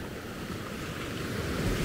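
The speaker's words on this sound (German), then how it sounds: "schaut euch die Wellen hier an, ist das nicht schön?" Ocean surf rolls against the Gran Canaria coast in a steady wash of breaking waves, with wind rumbling across the microphone throughout the short stretch.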